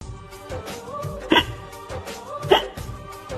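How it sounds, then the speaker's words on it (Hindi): Repeated hiccups from a man in a Hindi husband-wife comedy sketch, two sharp jolts standing out at fairly even spacing over a steady bed of background music. "हिचकी क्यों आ रही है?"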